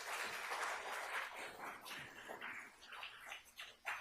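An audience applauds at a talk on constitutional rights, with a fairly quiet, dense patter of clapping that thins out and fades toward the end.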